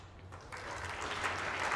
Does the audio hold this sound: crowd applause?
yes